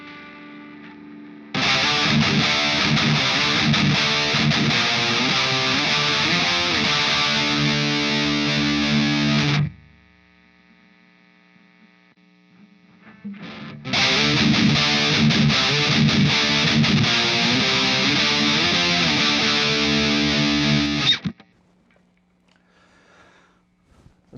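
Heavily distorted electric guitar riffs played loud through an Engl amp, two long bursts separated by a short quiet gap, no talking.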